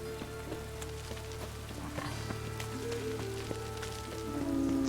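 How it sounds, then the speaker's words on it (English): Steady rain falls in The Witcher 3, a constant patter of drops that runs the whole time under layered ambient game tones, and it swells slightly near the end. "Looks like rain."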